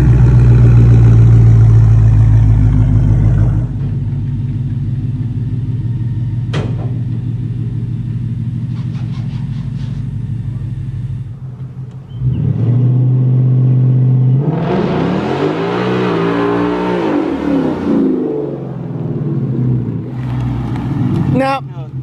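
A 2020 Mustang GT on new drag tires idles with a deep rumble, then revs hard for a test hit that builds into a loud, rising engine roar before easing off, with brief talk mixed in.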